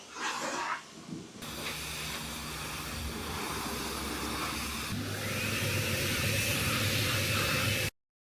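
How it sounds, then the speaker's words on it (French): A poorly performing vacuum cleaner switches on with a loud, steady hissing roar. It grows a little harsher midway and then stops abruptly. "Le pire aspirateur que j'ai jamais fait, c'est cette grosse merde."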